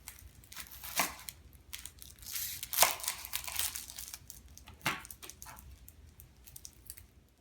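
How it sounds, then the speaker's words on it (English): A knife cutting carrots and onions on a board, making crisp, uneven crunching chops and slicing strokes in irregular bursts, close and moderately loud with no one speaking. "After I've cut my carrots into thin straws, I'm going to cut my onions into half rings."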